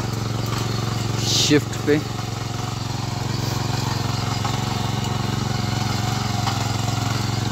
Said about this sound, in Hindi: पर अब ट्रैक्टर है तो ट्रैक्टर को अपने कंट्रोल के हिसाब से चला सकते हैं